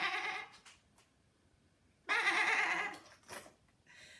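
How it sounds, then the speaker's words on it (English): A sheep bleats in two long, wavering cries separated by a quiet gap, clear and close with faint background hiss. "The first thing in my box is a sheep."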